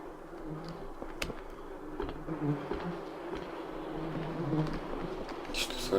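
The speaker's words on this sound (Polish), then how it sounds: "jakieś osy." Wasps buzz in the video game Eclipse, a close, wavering insect drone that rises and falls across several seconds, with a few faint clicks and thin background noise around it.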